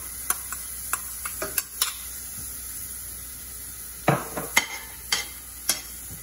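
Onion sizzles in hot oil in a frying pan, a soft steady hiss broken by sharp, sporadic pops and crackles, some loud and close, with no talking.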